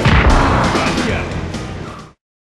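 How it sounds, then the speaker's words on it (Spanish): Explosions and crashes from the SNES racing game Biker Mice From Mars, a loud booming burst with a crunching impact that rumbles and fades out within about two seconds before dropping to silence. "Los efectos de sonido también son muy buenos, inclusive se ríen momentos como explosiones y choques."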